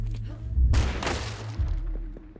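A short, loud burst from the Cyclone rifle in Hunt: Showdown, fired fast in a rapid cluster, then fading into quieter scattered sounds.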